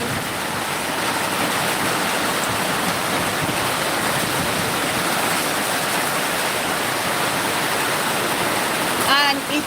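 Heavy, unbroken rainfall drums across a backyard in a dense, even wash of noise that holds steady throughout, with a short knock near the end.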